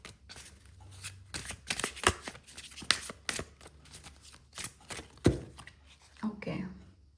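Tarot cards being shuffled and drawn, a run of crisp riffling snaps and slides close up, with soft quiet talk woven through.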